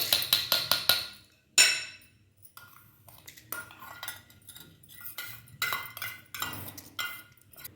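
Tamarind and spinach chutney is worked in a stone mortar, opening with a quick run of hard clacks, then turning into irregular grinding scrapes and knocks, close and without speech.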